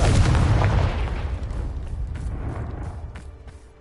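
A Confringo spell explosion in the Hogwarts Legacy video game hits hard at the start with a heavy booming burst, then decays into crackling, rumbling debris that fades over a few seconds.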